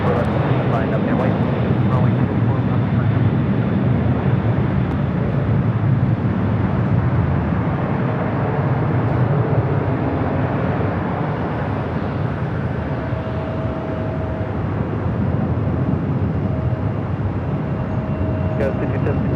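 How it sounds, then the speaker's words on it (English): Airbus A330 on its takeoff roll down runway 25 right at LAX, a broad sustained jet engine roar that stays loud throughout, with a faint tonal whine appearing later. "A330 now rolling down at 25 right"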